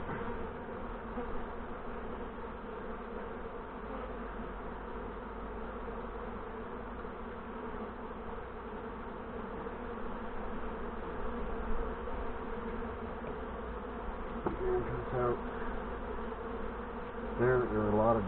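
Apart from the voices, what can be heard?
honey bees buzzing during hive inspection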